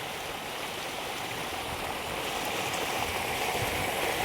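Runoff gushing out of a rain-soaked farm field in a village after heavy rain, a close, dense and continuous rushing flow at steady volume with no voices.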